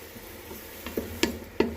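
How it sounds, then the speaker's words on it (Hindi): Oil sizzles softly in a pan while aloo methi, potatoes and fenugreek leaves, fries, with a few sharp clicks of a utensil against the pan near the end. "जब तक लाइट ब्राउन नहीं होता तो तब तक हम इसको भूनेंगे, फ्राई करेंगे"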